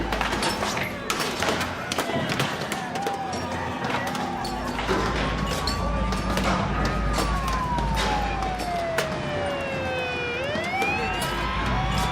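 A wailing ambulance siren sweeps up and down close by, mixed with thumps and bustle while people talk over it.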